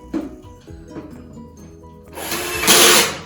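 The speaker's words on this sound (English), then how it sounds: "So get your drill, make sure it's going the right way, that's anti-clockwise." A few light clicks and taps, then a power drill whirs up loudly for about a second, turning anti-clockwise to unscrew, before spinning down.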